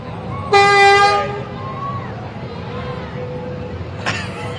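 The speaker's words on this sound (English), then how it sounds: "Good with those air horns." A loud, blaring tow truck air horn sounds for about a second at a Christmas parade on a street, followed later by a brief second toot, with a low background rumble of engines in between.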